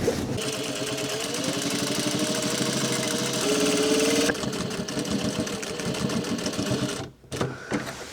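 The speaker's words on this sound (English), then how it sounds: "let's do the pocket bag stitching together" A sewing machine stitches dungaree pocket bags together, a loud, close, continuous motor hum with rapid needle chatter that shifts pitch partway through, then cuts off briefly near the end.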